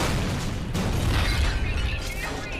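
Injector backblast from a Titanfall 2 titan erupts in a loud, close boom with crackling debris and rumbling aftershocks rolling on for a couple of seconds, no talk over it.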